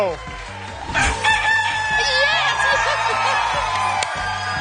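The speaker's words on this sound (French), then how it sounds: "puisque le coq a chanté" A rooster crowing sound effect rings out on a French-language egg-picking game show, a loud drawn-out cock-a-doodle-doo over background music and studio tones.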